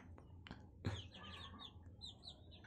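Chickens cluck softly nearby in short scattered calls, with a few sharper squawks, against a quiet farmyard background.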